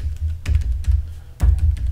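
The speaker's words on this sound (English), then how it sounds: "I'm going to type in" Keystrokes on a computer keyboard while an email address is entered, a few distinct close taps over a low steady hum, no talking.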